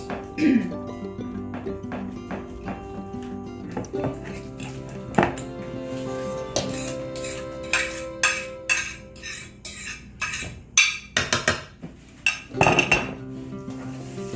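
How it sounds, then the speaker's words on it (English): Ripe bananas being mashed in a bowl for banana nut bread, with irregular metallic clinks and scrapes of utensil against dish that grow louder and busier toward the end. "this is the last 3 bananas. I'm going to mash it"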